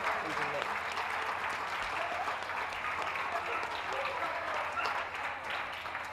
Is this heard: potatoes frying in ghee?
no